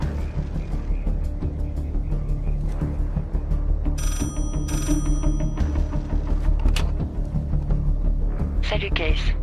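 A telephone rings through a French action film scene, its bright, repeated trilling coming in bursts over a rumbling background, with people talking during it.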